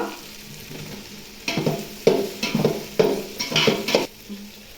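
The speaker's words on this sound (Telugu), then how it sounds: "ఇప్పుడైతే నేను మష్రూమ్స్ వేస్తున్నాను." Whole uncut mushrooms dropped into a hot pan with spices and garam masala for mushroom biryani, sizzling and stirred with several loud scraping strokes in a regular rhythm, close up, with no talking.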